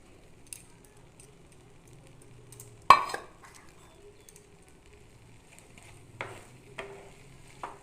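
Chhana made from half a kilo of milk is tipped into a pan and stirred, a mostly quiet scene with one sharp clatter of a utensil against the pan, a few later scrapes and faint background birdsong.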